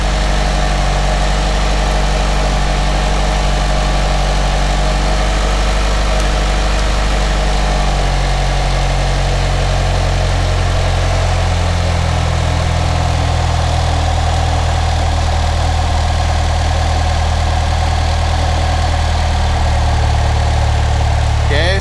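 A Mitsubishi Evolution 6 engine idles at around 1400 RPM in a steady, loud, continuous drone with a deep low hum, and the pitch drops slightly partway through as the idle is set lower.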